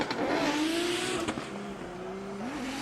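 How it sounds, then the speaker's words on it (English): Drift car at a Drift Kings Asia Cup top-16 final in Malaysia roaring down the straight and around the track, engine note rising and bouncing off the limiter with tire squeal, loud and close. "Rip roars it around the track."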